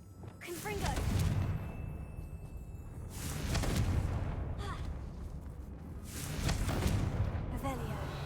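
Confringo fire spell blasts in the Hogwarts Legacy video game, three booming bursts spaced a few seconds apart, each swelling and fading into rumble, with spoken voices in between.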